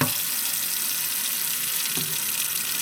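Water runs steadily from a freshly thawed household tap on a frozen farm, a loud, close, continuous splashing stream heard alone without talk.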